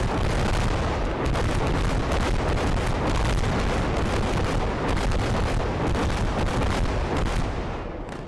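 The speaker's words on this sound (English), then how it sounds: "now my land mattresses are ready to shoot" A Land Mattress rocket barrage in Call to Arms – Gates of Hell: Ostfront slams down in a dense, continuous string of explosions, loud booming blasts rolling over one another for several seconds before tailing off slightly.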